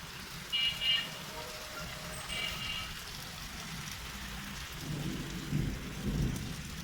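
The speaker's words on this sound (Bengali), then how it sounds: "2-1 দিন পর পর থেমে থেমে একটু একটু করে বৃষ্টি হয়" Steady rain falls throughout while low rumbles of thunder roll in, growing deeper and stronger toward the end.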